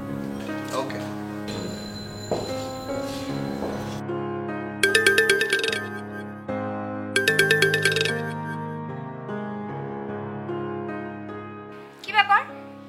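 Mobile phone ringtone in an office setting, a melodic electronic tune repeating in short bursts with brief pauses between rings, loud and close, with a voice speaking over parts of it.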